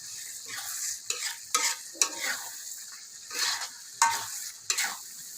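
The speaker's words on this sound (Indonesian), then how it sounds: "Kita masukin semuanya, kita aduk-aduk lagi." Palm sugar, lemongrass, galangal and bay leaves are stirred in a pot for Betawi sayur godog, giving repeated scraping strokes and clinks against the pot over a low sizzle, close and moderately loud.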